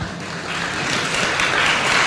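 Audience applause at a foundation conversation series event, a dense wash of clapping that builds slightly and holds steady throughout, with no talk over it.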